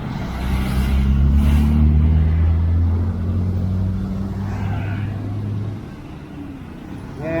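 Road traffic on a street in Singaraja, Bali: cars and motorbikes passing close by with a steady engine rumble and hum, swelling and easing as vehicles go past, loud and continuous.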